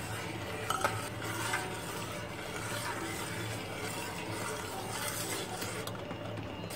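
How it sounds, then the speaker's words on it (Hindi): Milk being stirred gently in a pot while vinegar is added bit by bit to curdle it for chenna, with steady soft scraping and liquid swirling sounds running continuously at close range, no voices. "ज़्यादा नहीं चलाना है, हल्के हाथ से चलाना है और सिरके को थोड़ा थोड़ा करके डालना है।"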